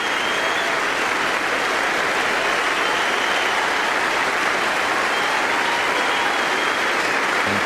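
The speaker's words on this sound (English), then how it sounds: "The crowd know that. They're on their feet right around the stadium." Sustained, dense applause from a large cricket crowd standing across a stadium during a 1999 Test match between Australia and India, steady and enveloping throughout with no break.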